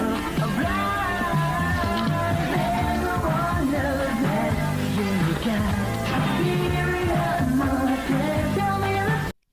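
A recorded pop song plays loud and continuously with a full band and melody, then cuts off abruptly at the end.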